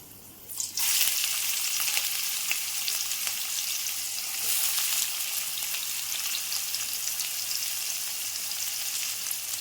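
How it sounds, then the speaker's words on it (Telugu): Onions, cumin seeds and fenugreek seeds hit hot oil in a pan, bursting into a loud, steady sizzle that holds without a break to the end. "నూనె వేడైంది జీలకర్ర వేసుకుందాం కొద్దిగా జీలకర్ర కొద్దిగా మెంతులు ఉల్లిపాయ ముక్కలు వేసుకుందాం"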